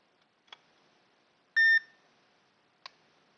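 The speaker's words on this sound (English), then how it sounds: "In this direction, 1 beep, so that's consistent with the MOSFET." A multimeter in continuity mode gives one short, clear beep while testing a MOSFET in a Kessil A360X light's voltage protection circuit. Faint clicks from the probes come before and after it in a quiet room.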